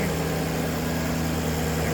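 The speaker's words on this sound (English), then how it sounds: "That's the sound of the engine." Cold Maserati Quattroporte Sport GTS engine idling under an open hood, a steady low rumble with a constant hum that holds unchanged throughout.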